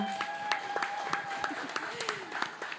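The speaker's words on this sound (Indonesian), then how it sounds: "Sobat Cuan, boleh dong jangan irit-irit tepuk tangannya." Scattered audience clapping at Alobank Festival 2022, individual claps popping out over a lingering tonal hum and some background activity, thin rather than a full ovation.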